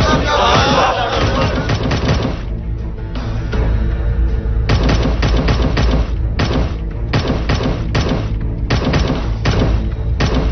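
Rapid bursts of gunfire crackle over a loud, cheering crowd, with shouting and repeated shots continuing nearly throughout.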